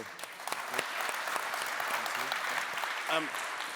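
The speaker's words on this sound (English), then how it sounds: "I think it deserves a well-earned round of applause." Audience at a policy and business models conference applauding a panel of three, a full, steady wash of clapping throughout, with a brief voice near the end.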